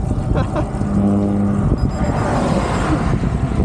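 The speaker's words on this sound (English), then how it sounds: "right as I say that, here comes a car" A car approaches and passes on a quiet rural highway in Kansas, a steady loud rush of tire and engine noise filling the whole stretch, with a voice talking briefly underneath.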